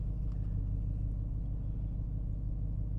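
A 2012 Ford Mustang Boss 302 Laguna Seca idling smoothly, a low, steady engine rumble with an even drone and no revving, faint and unbroken throughout.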